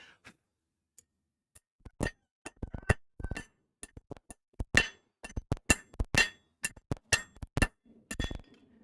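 Sharp metallic strikes of a hammer on hot metal in a smithy ring out, sparse at first, then settling into a quicker irregular rhythm of bright clanking blows, close and clear with no talking.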